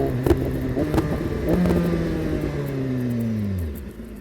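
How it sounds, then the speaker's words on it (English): BMW S1000RR sport motorcycle with an SC Project exhaust accelerating hard on the road, engine note climbing through gears in loud, close revving sweeps before easing off near the end. "Listen to this bike, man."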